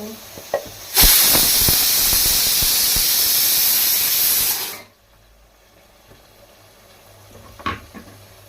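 Chickpea cooking water poured into a hot pan erupts into a loud, sustained steaming hiss for about four seconds, then cuts off, leaving quiet with a small clatter.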